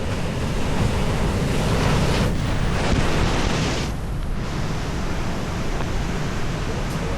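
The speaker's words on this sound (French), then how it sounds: "Il y a de grosses vagues de temps en temps." Large waves break on the Mediterranean shore of Corsica in a loud, continuous wash of surf, a near crashing roar with slight swells and brief dips, mixed with wind buffeting the microphone and no voices.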